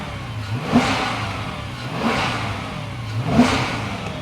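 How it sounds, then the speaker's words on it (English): A 2014 Dodge Charger, a former police car, revs its engine three times in quick succession. The revs sound fairly thin and weak, rising and falling at moderate loudness with no talking. "Just no vroom, as you know, like Dodge Chargers have."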